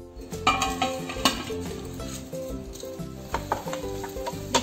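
Mixed vegetables with tomato cook in a pan for masala macaroni, sizzling under clinks and scrapes of a spoon against the metal pan, fairly quiet and close.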